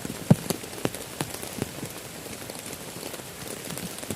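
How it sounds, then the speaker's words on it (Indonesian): Rain drums on a camping tent in a dense, constant patter, with a few louder drops striking close by over the steady wash of wind-driven rain. "Angin, hujan dengan angin udah mulai masuk ke dalam tenda teman-teman."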